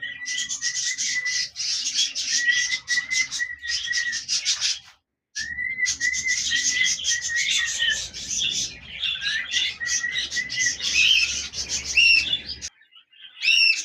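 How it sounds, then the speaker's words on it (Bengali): A pair of cockatiels, one lutino and one grey, at a bird farm, giving loud, close, repeated whistling chirps in quick bursts with a brief pause midway, no talk. "লোটিনো কোকাটেল চমৎকার এই পেয়ার জোড়া"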